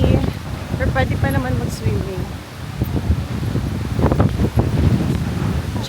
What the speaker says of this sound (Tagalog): Tsaka ang hangin, guys.